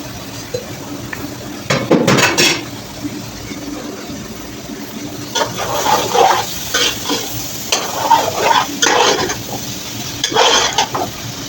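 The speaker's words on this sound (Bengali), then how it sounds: "এই যে মশলার সঙ্গে মিক্সিং হচ্ছে" Bottle gourd and potato are stirred with spices in a pan, with intermittent bursts of spoon scraping and clinking against the metal over a faint low sizzle, close by, with quiet gaps between strokes and no speech.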